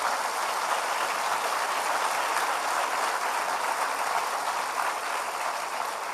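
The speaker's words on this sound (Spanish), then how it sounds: "Dale un aplauso al Señor." A church congregation applauds the Lord during a sermon, a dense, even roar of clapping that stays loud and steady throughout.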